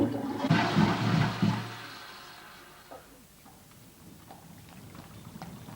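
A toilet flushing nearby, a loud rushing burst of water for about two seconds that drains away into quieter trickling and faint gurgles.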